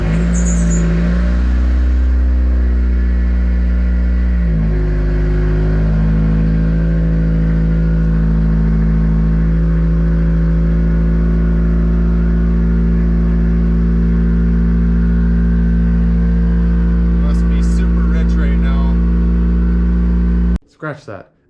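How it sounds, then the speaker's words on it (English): A Mazda Miata engine freshly back together after a clutch replacement settles into a loud, steady close-up idle with a slight rev change early on, a constant mechanical drone that runs almost the whole time before cutting off abruptly. "it should be able to turn over and start"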